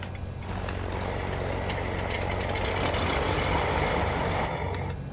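Aircraft engine number one spooling up during a start in Microsoft Flight Simulator, a steady broadband roar with low rumble holding loud and continuous throughout, with no voices.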